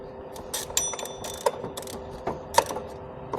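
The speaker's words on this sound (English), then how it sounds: "I can go ahead and get that 10mm bolt out." A ratchet works loose a 10mm bolt on the engine of a 2008 Acura MDX with the J37 V6, during a timing cover install: close, crisp metallic clicks come in short irregular bursts with a few sharper pawl snaps.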